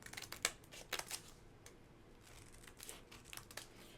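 Scissors cut out a paper rub-on sheet and flowers for card making, making faint, close snips and soft paper crinkles in small irregular clusters.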